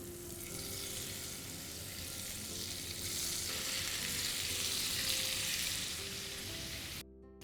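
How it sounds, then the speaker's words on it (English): Fish for doi maach fries in hot oil, an even, crackling sizzle heard close up that holds steady throughout with slight swells in intensity. "So the fish is getting fried on one side."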